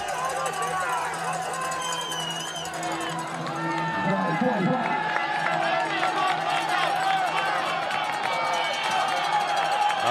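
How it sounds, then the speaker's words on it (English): A huge crowd cheers and yells continuously at a women's elite cyclo-cross World Cup race in Zonhoven, Belgium, as riders pass. The roar swells partway through and stays dense and steady, with a commentator talking over it. "Brand now with work to do, being encouraged on by this huge crowd here."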